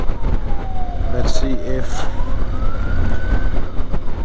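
An ambulance siren wails on a road coming into Chalahuanca, Peru, its rising and falling tone sweeping steadily over engine rumble and traffic noise, with someone speaking briefly over it.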